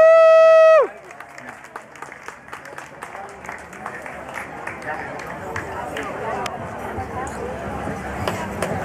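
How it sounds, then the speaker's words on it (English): After a loud tone cuts off, an audience at a farewell party breaks into applause for Nahanda, a dense patter of many hands that builds steadily and stays close, with some voices in the mix. "A big applause for Nahanda."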